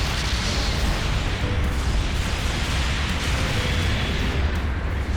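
A mobile suit blows up in Gundam Battle Operation 2, a dense, sustained roar of explosion and rumble that fills the whole stretch at steady loudness, close and heavy, with no talk over it.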